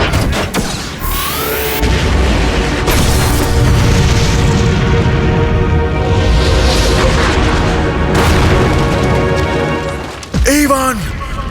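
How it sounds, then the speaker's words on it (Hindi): A loud boom and crash from a cannon exploding in an animated cartoon bursts through dense, continuous battle music and effects, with a sharp impact near the end. "कैनन में विस्फोट हुआ है।"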